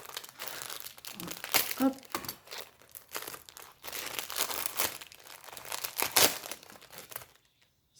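Plastic wrapping of a Temu parcel crinkles and tears in bursts of crumpling across several seconds, close and fairly loud, with a brief spoken word near the start.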